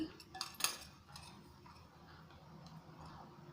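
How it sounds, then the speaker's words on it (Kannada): Metal kadai pan set down on a kitchen stove to cook radish fry, two quick sharp metallic clinks near the start, then quiet low background hum. "ಕಡಾಯಿ ಇಟ್ಟಿದ್ದೀನಿ"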